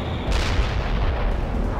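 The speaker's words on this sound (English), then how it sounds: "Firing for effect. Launching heavy ordnance." Artillery in the video game World in Conflict fires, giving a dense, heavy rumbling boom that fills the short stretch at a steady loud level and ends without a clear tail.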